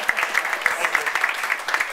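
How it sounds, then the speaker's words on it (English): Applause from an evening event audience, a dense crackle of many hands clapping steadily without a break, fairly close and moderately loud, with no voices over it. "Go ahead and give her another round of applause for me."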